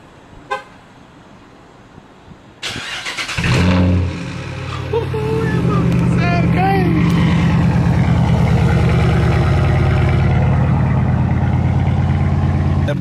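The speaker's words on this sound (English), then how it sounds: "Let me hear that cold start real quick." A Dodge Charger R/T at a Milwaukee car meet cold-starts with a brief crank, then bursts into a loud engine roar that settles into a deep, steady, rumbling idle close by, with voices at the meet around it.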